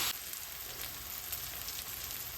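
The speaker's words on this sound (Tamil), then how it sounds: "வெங்காயம் போட்டாச்சு இப்போ வதங்கட்டும்" Onions and fenugreek sauté in a hot pan for a brinjal-tomato curry, giving a continuous close, bright sizzle with a faint constant background hum.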